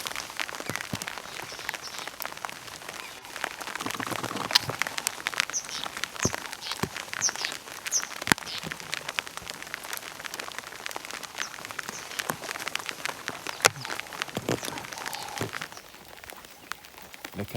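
Heavy rain patters steadily on leaves and surfaces outdoors, with dense, close drops and occasional louder splashes throughout, easing slightly near the end.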